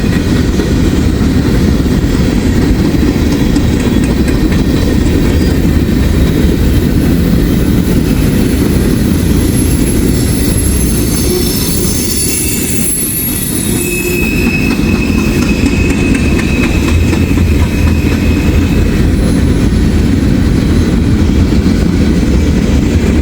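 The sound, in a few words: freight train passing with a single locomotive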